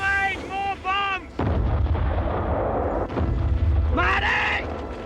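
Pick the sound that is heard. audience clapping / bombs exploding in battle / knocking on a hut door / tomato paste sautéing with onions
bombs exploding in battle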